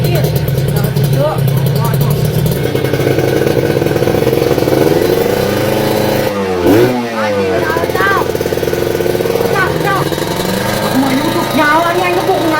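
A motorcycle engine starts and revs steadily and loudly throughout, with a brief dip and surge partway through, while people talk over it in Sundanese in a comedy sketch.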